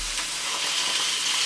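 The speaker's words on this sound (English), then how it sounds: "our sausages are sizzling nicely" Sausages sizzle steadily in a frying pan, a close, continuous crackling hiss with no talk over it.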